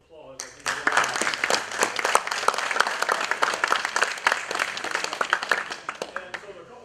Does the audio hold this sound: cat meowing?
no